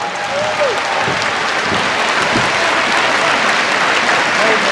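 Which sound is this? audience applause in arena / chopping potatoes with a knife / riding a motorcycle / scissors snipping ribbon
audience applause in arena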